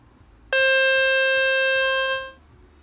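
A speaker-cleaning tone from a Fix My Speaker website plays on a phone: one loud, steady electronic beep with a bright harmonic buzz, lasting nearly two seconds and then cutting off, with no voices.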